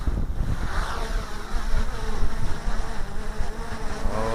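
A DJI Air 2S drone takes off and flies on a freezing, windy day, its rotors giving a continuous buzzing whine, with rumbling wind buffeting the microphone throughout.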